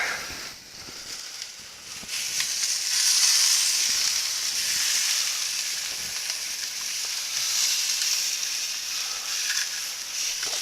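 Inside skirt steak sears on a hot grill for carne asada tacos, a steady close sizzle and hiss running without pause, swelling slightly midway and continuing alone with no talk.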